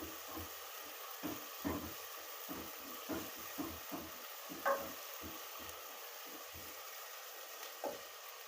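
Ginger-garlic paste fries in a pan with a soft continuous sizzle, broken by repeated stirring scrapes and small pops in an irregular rhythm, close and fairly quiet.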